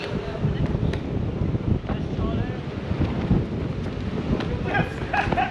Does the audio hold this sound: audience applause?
no